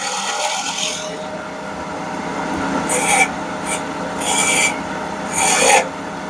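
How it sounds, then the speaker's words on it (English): A spindle gouge cuts a decorative detail into a wooden pepper grinder on a lathe, giving several short, loud raspy scraping bursts separated by brief pauses. "Grab my spindle gouge, and I'm going to do that real quick."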